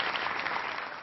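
A brief stretch of bright, steady applause from a street audience at the Festival Off, many hands clapping together and sounding fairly close.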